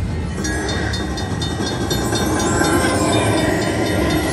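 A train sound effect from the Cash Express slot machine game gives a loud, continuous rumbling clatter of rolling rail cars that runs steadily with no pauses.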